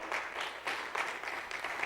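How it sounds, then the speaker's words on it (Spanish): A church congregation claps during a Spanish-language worship service, a short burst of fairly soft, rhythmic group clapping with regular pulses. "Den un aplauso al Señor."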